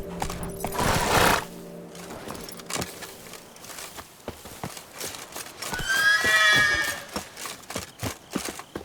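Roach, a horse in The Witcher 3: Wild Hunt, gives a loud whinny near the start, then hooves clip-clop at a steady pace with a second, brighter neigh partway through.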